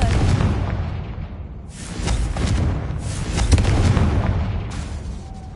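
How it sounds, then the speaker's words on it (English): Confringo blast spell going off in a Harry Potter-style video game, a sustained rumbling explosion with layered booms and crackling bursts that swell and roll on for several seconds, loud and close. "Confringo!"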